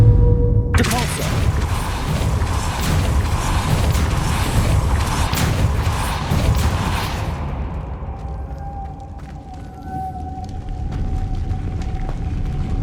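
Spell-casting effect for the Depulso force spell in the video game Hogwarts Legacy: a sudden booming whoosh bursts in loud and dense, holds for several seconds, then cuts away to a quieter tonal hum and faint ambient game sounds.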